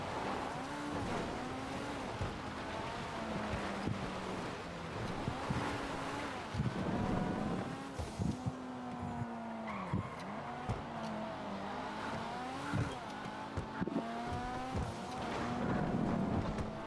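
The Vencer car in GTA Online drives through Los Santos, its engine revving up and down continuously with repeated rising and falling pitch sweeps as it shifts gears, accompanied by tire and wind noise, fairly loud throughout.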